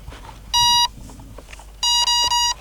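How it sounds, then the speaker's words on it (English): Electronic calibration beeps from a balsa RC Cub plane's speed controller: one short tone, a pause, then a quick run of three more, loud and close over a faint hum. "Those beeps indicate that the ESC is now calibrated"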